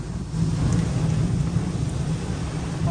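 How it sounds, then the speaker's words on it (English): Thunder from a severe thunderstorm in Houston, Texas, rumbles as a loud, continuous low roll over rain, close and filling the whole stretch without speech. "You can hear the thunder."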